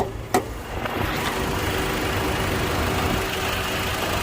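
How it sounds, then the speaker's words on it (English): A car engine idles steadily, a low continuous rumble with a couple of brief clicks near the start, no voices. "I could hear the engine"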